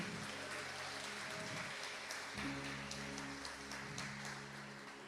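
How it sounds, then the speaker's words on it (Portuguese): A church congregation claps together in a soft, rain-like patter of applause over a low sustained hum, continuing evenly for about five seconds. "Você pode dar uma salva de palmas para o Senhor por isso?"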